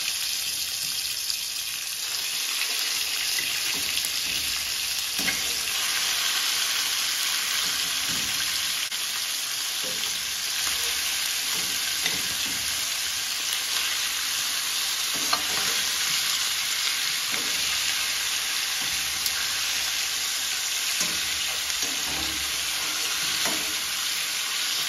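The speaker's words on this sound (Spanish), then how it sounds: "Las vamos a poner a freír en esta cazuela con poco aceite" Pieces of chicken frying in a casserole dish with little oil, a steady close sizzle running throughout with occasional stirring scrapes and crackles, no voices.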